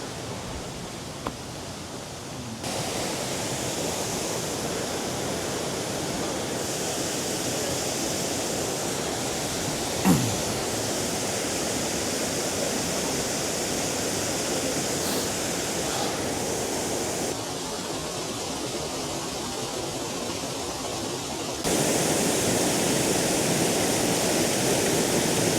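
Waterfall at Malham Cove, a steady broadband roar of falling water that stays close and loud throughout, with a brief sharper splash near the middle and a slight jump in level toward the end.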